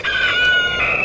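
A bantam rooster gives a single short, high-pitched crow, close and clear against a quiet background.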